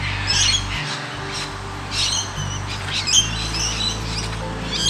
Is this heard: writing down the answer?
no